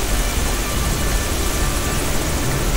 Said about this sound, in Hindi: मेरे को हेलीकॉप्टर की आवाज़ आने लग चुकी है